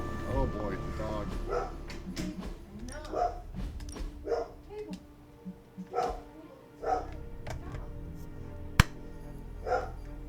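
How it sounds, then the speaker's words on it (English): A dog barks in the Marvel's Midnight Suns video game, with a series of short, evenly spaced barks and yips at moderate loudness over a steady background of game ambience and music. "Oh boy, the dog."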